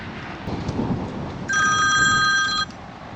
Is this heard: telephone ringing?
yes